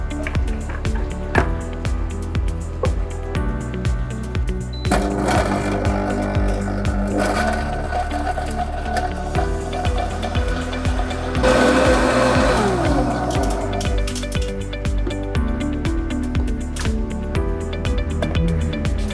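A blender grinds ice with milk and syrup for a homemade frappe: a loud, close motor whine with rattling, crunching ice that swells in bursts, then a stretch of higher, smoother spinning near the end, with no talking.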